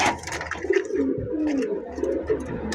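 A pair of racer pigeons, male and female, coo repeatedly and close up in a bird-sale setting, soft throaty rolling calls with a few faint chirps from other birds around them.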